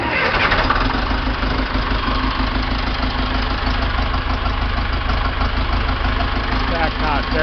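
A John Deere 2030 tractor diesel engine cranking and catching, then settling into a loud, steady, close idle with a rough knocking chug, and a voice heard over it.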